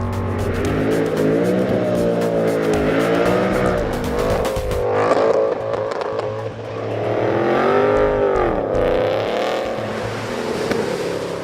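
Mercedes CLK Black Series V8 at full throttle while drifting sideways, a loud continuous engine roar that swells and dips with the revs, with tire squeal and no talking.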